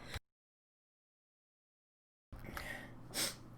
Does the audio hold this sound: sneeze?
yes